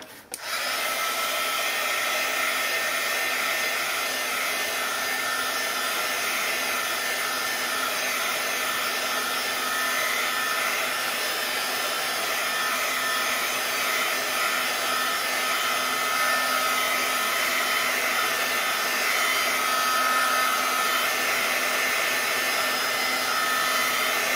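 A hair dryer dries a small watercolor flower painting, blowing as a constant, steady roar from start to finish with no talk.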